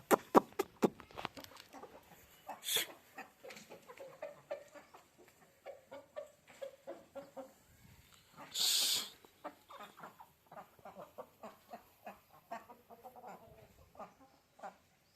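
Chickens cluck in short bursts close by, with a brief sharp squawk partway through and another higher burst later.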